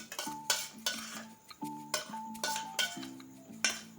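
Milk kova mixture is scraped with a spoon into a small ghee-greased bowl, giving repeated close, soft metallic scrapes and clinks in an irregular rhythm, with no talking.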